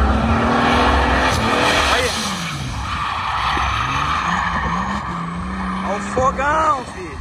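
A car engine and exhaust rev hard while driving through mud at a mud-driving meet in Luziânia, rising and falling in loud, close roars with brief squeals, as people talk over it.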